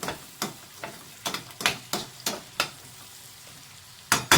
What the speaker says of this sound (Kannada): ನಾನು ಇದರಲ್ಲೇ ಫ್ರೈ ಮಾಡ್ತಾ ಇದ್ದೀನಿ